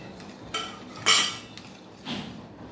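A spoon scrapes and clinks against a pot while jowar and ragi flour is stirred into hot water, giving three short, fairly faint metallic strokes spaced apart.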